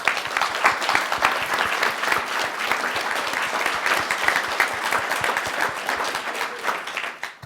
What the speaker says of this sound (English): I'm sure you want to welcome her with me with a round of applause.